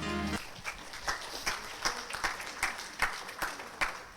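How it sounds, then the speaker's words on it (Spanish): Applause from a church congregation, heard as scattered, fairly faint claps in a loose rhythm after a brief tone at the start. "Un aplauso a nuestro Dios."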